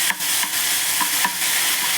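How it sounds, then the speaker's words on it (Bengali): Onion paste frying in white oil for a Mughlai dish, a steady close sizzle with a few soft stirring scrapes over two seconds, no voices. "পেঁয়াজটাকে ভালো করে ভাজবো"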